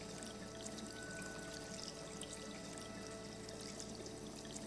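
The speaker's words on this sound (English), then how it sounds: "Then you see this water streaming out of the tap." Dark, sludgy water pours steadily from a faucet in the game Rue Valley, a continuous dense rushing hiss that runs unbroken and evenly loud from start to finish.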